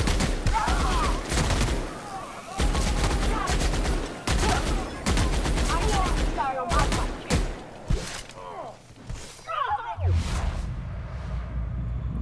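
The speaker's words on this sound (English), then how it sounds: "Probably bring out your machine gun for this one." Machine gun fire in The Outer Worlds video game, loud rapid bursts repeating through most of the stretch, with someone talking over the shooting.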